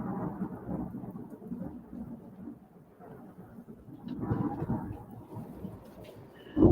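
Thunder rolls through a lightning storm near Lullington: a deep, continuous rumble that swells toward the middle and ends with a sudden sharp crack up close.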